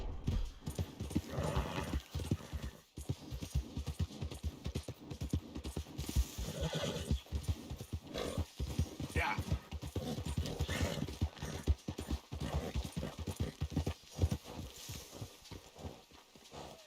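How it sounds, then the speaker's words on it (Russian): Hoofbeats of a galloping horse in Red Dead Redemption 2 pound steadily in a fast, dense rhythm, broken by loud whinnies and neighs, with no talking. "Бедная лошадь, прости меня."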